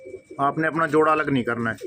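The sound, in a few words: Punjabi Malwai pigeons cooing in loft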